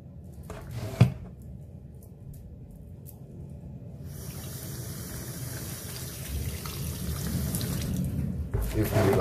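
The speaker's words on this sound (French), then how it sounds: "vous rajoutez un peu d'eau." Water from a tap running and pouring into a bowl of chicken thigh marinade with spices, a steady rushing wash that grows slightly louder toward the end, with a brief knock near the start.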